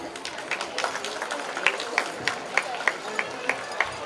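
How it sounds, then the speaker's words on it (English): Applause from a school sports meet crowd greets house prize winners, a steady wash of many hands clapping under some voices, with a few sharper claps popping out toward the end. "Let's applaud for them."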